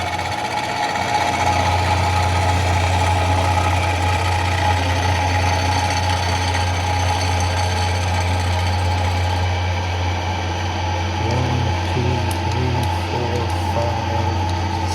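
A Kearney & Trecker Model 2D rotary head mill cuts an orbital surfacing pass, giving a steady loud motor hum and grinding drone. It runs continuously with no talk.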